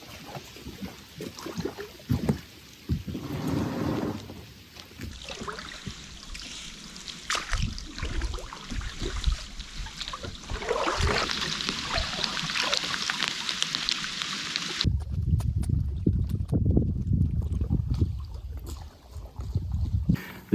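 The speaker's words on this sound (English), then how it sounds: "This is gonna be my slowest paddle out ever" A loaded boat is paddled out across a Vermont lake among autumn foliage, with steady close dips and swishes of the paddle and water trickling off the blade, continuing over wind and outdoor noise without talk.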